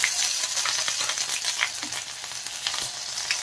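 Bay leaf, garlic paste and ginger paste frying in a little hot oil for an egg and potato curry, a steady bright sizzle with crackling pops throughout, close and continuous with no talking.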